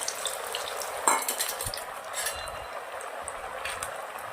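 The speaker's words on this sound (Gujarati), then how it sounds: "સુરણ આપણે સરસ મજાનું ક્રિસ્પી થઈ જાય ત્યાર સુધી તેલના અંદર તળી લેવાનું છે" Pieces of suran (elephant foot yam) fry in plenty of hot oil in a kadai, giving a steady close sizzle with a few light scrapes and clinks of a spoon.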